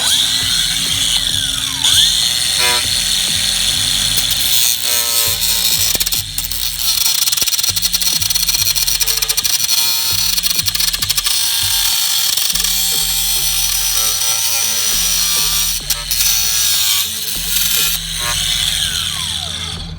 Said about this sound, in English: You don't want to actually go into the rubber line with your grinding tool, so I'm going to go kind of careful.